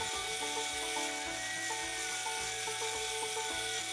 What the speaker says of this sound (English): I'm just using a 40 grit belt on this